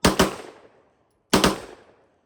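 Two sharp, loud rifle shots from a rifle fitted with a $40 binary trigger, fired about a second and a half apart, each with a quick echoing decay and no talking.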